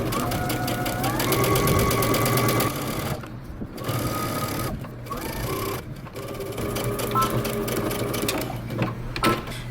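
Close, steady whirring of a sewing machine stitching a shirt dress, broken by a few short stops before the motor picks up again.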